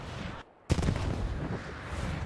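Artillery smoke barrage in the Post Scriptum World War II game, Operation Market Garden event: after a brief hush, a sharp heavy boom hits and gives way to a sustained, loud rumble of battle noise.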